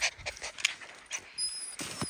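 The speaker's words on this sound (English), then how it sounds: "This is Dude's first forest walk. Come on, puppies" A puppy pants and snuffles on a forest walk, quick close breaths and small whimpers coming in uneven bursts, with a few higher squeaky sounds near the end.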